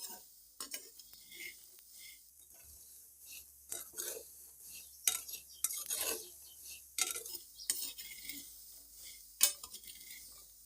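Peanuts roasting on a low flame are stirred in a pan, irregular dry scraping and rattling strokes close by, fairly quiet, with small gaps between stirs.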